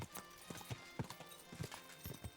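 Rapid hoof clip-clops from a horse in the video game Kingdom Come: Deliverance II, a brisk uneven rhythm of sharp knocks over a steady hiss of rain or wind.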